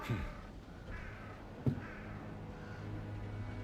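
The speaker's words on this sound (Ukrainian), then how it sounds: "Якщо вже ворони на смітнику гніздяться." Crows cawing in the video game S.T.A.L.K.E.R. 2, a few harsh calls at about 0.1 and 1.7 seconds over a steady low ambient hum, moderately faint and without speech.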